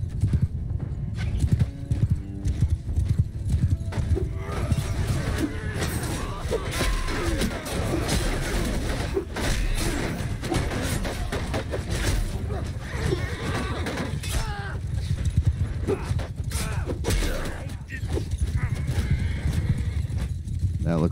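Cavalry charges in a Mount & Blade 2 battle: dense, continuous hoofbeats from many galloping horses, loud and close, with repeated neighs and whinnies cutting through the steady battle din.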